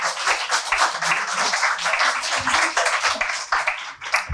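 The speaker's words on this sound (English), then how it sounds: "So please give a round of applause to Abigail." Audience applause for a keynote speaker at an energy investment event, a dense, steady wash of many hands clapping close by for about four seconds, with no talking over it.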